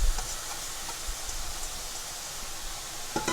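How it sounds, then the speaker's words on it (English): Rice frying in a pan for Guyanese-style fried rice gives a steady, dense sizzle with faint stirring scrapes, and a louder scrape or clatter comes near the end. "Fry this up until it gets very dry"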